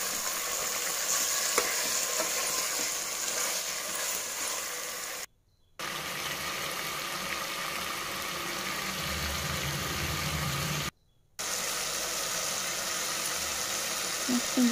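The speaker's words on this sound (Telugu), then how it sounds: "ఫైవ్ మినిట్స్ పాటు దీన్ని ఫ్రై చేయండి।" Marinated mutton frying in a pressure cooker for biryani gives a loud, continuous sizzle with stirring scrapes, steady throughout apart from two brief silent gaps.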